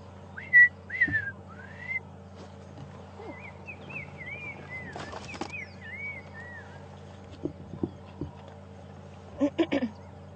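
A bird's whistling call heard on a sunrise safari drive, a string of clear rising and falling whistled notes of medium distance over a steady low vehicle hum, with short knocks and rustles.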